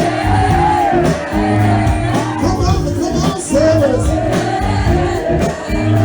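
A large concert crowd shouts and whoops back in rhythmic bursts alongside a band, loud and dense, with repeated call-and-response chants swelling over the music.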